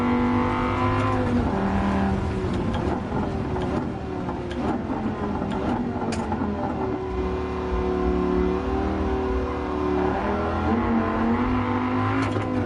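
Race car engines in Gran Turismo 7 roar continuously and loudly, revving up and down through gear changes with brief tire squeals as a rival C7 follows close behind on the final lap.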